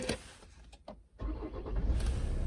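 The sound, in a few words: Kia Sorento 2011 2.2 diesel engine push-button start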